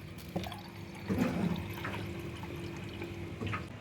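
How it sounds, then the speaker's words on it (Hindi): Fresh water is poured into a drinking glass at home, a brief, soft, splashy trickle over a low background hum, with no talking. "पानी मैंने डाल लिया।"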